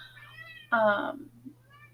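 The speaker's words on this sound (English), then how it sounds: "you can hear my cat who wants to come hang out" A house cat meows once, loud and close, in a quiet room with a steady low hum. A voice is heard just before and around the meow.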